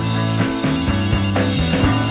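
A phone rings loudly and close, its tonal ring repeating in a quick, insistent pattern with no talking.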